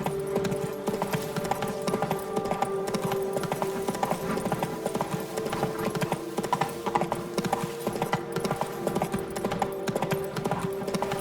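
Hooves of Roach, a horse in The Witcher 3: Blood and Wine, clip-clop in a steady galloping rhythm throughout, mixed with game music and ambience, with an occasional faint whinny.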